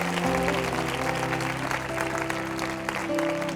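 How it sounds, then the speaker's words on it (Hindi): A church congregation applauds with steady, dense clapping that fills the whole stretch, while sustained musical tones hum underneath. "तो आपकी ताली बहुत छोटी है।"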